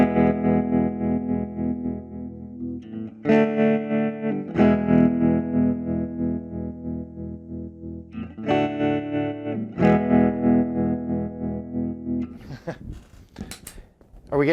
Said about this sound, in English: You want to hear some tremolo?